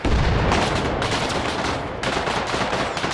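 Dense, continuous video game gunfire, rapid bursts of shots overlapping into a steady roar throughout, loud and close.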